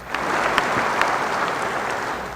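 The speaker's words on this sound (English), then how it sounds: "Congress and dignitaries erupted into applause." Sustained applause from a large crowd of Congress members and dignitaries, steady and dense clapping filling the whole stretch with no voices standing out.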